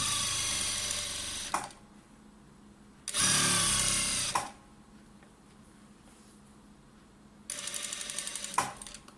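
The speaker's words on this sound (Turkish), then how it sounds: "lastiğimin işaretiyle eteğimin işaretini birbirine denk getirerek şu şekilde tutuyorum ve lastiğimi dikiyorum" A sewing machine stitching elastic onto a skirt runs in three separate bursts of rapid, whirring stitching, with quiet pauses between them and no talk.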